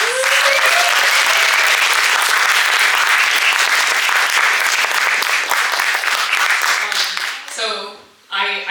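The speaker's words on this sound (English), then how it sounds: "Let's give them a round of applause." A school coffee-house concert audience gives the performers a round of applause, loud, sustained clapping from a crowded room that fades near the end as a voice starts speaking.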